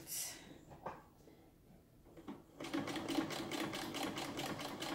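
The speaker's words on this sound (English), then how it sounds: "So the final piece of this mask is just to sew along the sides." Sewing machine running a double stitch along the sides of a fabric face mask, a steady rapid mechanical whir with rhythmic needle ticking that starts after a brief quiet pause and continues close and clear.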